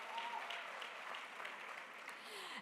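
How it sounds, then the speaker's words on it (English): An audience applauds a lecture panelist at a public lecture, a steady, even wash of clapping that holds at moderate volume throughout with no voices over it. "Let's give him a big round of applause"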